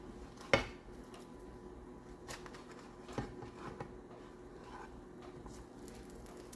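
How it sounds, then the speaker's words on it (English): A turkey sandwich is flipped in a skillet: a sharp metallic clank, then softer scrapes and knocks over a faint background hiss. "we'll go ahead and flip it and let that side get a little toasty"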